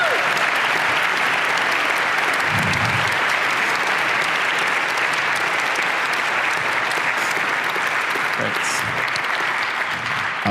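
A church congregation gives its pastor a round of applause, broad sustained clapping from a large crowd that stays loud and even the whole time.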